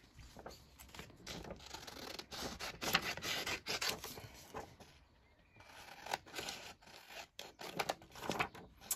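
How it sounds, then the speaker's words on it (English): Scissors cutting out a paper flower for a journal insert, a run of close crisp snips and rustling paper scrapes in uneven bursts with a short pause midway. "So, I might cut out this flower."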